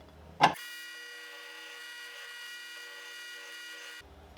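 A drill press with a 1/4 inch bit boring into a wood block: a short sharp bite, then a steady, even whine that runs for a few seconds and stops abruptly.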